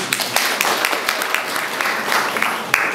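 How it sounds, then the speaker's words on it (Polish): Loud, sustained applause from a crowd after a choir performance at an Independence Day commemoration in Mierzeszyn, Poland, dense clapping with a few sharper individual claps standing out throughout. "Wielkie brawa dla nich."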